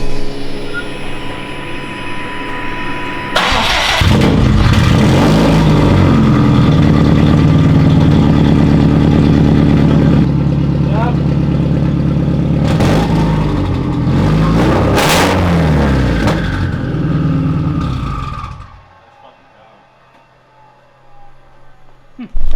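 A Subaru STI with its Q300 muffler removed fires up and idles with a loud, raw, rumbling exhaust roar that holds steady for about fifteen seconds, with a few sharper revs, before cutting off into near silence.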